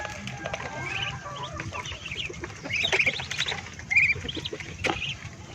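Chickens, including large Black Australorps, clucking and calling nearby at morning feeding on a farm, several birds overlapping in irregular bursts, with a few louder squawks toward the end.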